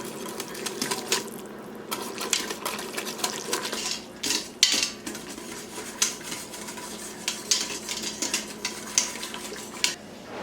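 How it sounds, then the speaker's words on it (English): A whisk clatters rapidly and steadily against the metal inner pot of an Instant Pot, stirring chuck roast gravy as it thickens. The scraping and clinking is close and continuous, with a few sharper taps, and no one speaks. "I'm just going to whisk this until it"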